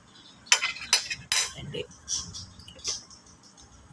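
Spoon scraping and clinking against a cooking pot while food is stirred, a few sharp metallic knocks followed by softer clatter, close and moderately quiet, with low background sound.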